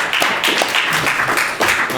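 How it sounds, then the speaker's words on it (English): Studio audience applause closing a talk-show interview segment, a steady wash of dense clapping that holds at an even, fairly loud level for two seconds. "Let's give Ben a round of applause."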